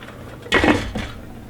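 A metal lid is set onto a cooking pot on the stove, giving a short clattering clank followed by a lighter second rattle, close and alone.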